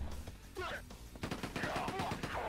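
Rapid machine gun fire in Quake 2 on the PlayStation, a dense string of close, punchy shots that kicks in after a brief lull and keeps rattling to the end, with game sounds underneath.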